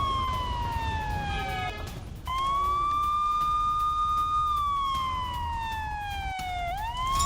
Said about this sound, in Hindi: स्ट्राइक के बाद तेहरान में सायरन की आवाज गूंजी है।